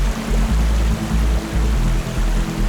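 Water flowing steadily from the Aab-e-Shifa spring beside the road to Mahodand Lake in Kalam, Swat, a continuous broadband rush with soft low thumps pulsing underneath.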